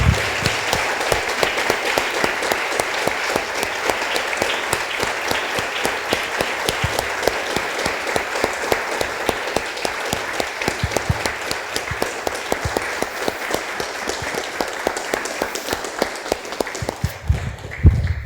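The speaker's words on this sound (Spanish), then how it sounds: "Damos un aplauso, hermanos, al Señor." A church congregation claps together for a long stretch, steady rapid applause that stays loud and even throughout before ending abruptly at the close.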